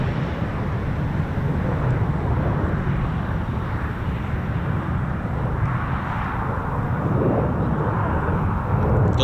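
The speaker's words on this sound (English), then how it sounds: "Vertical landing coming up for you" An RAF F-35B fighter jet comes in for a vertical landing, its engine roar a loud, continuous, broadband rumble heard from a distance that holds steady for the whole stretch.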